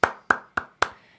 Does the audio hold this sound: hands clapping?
yes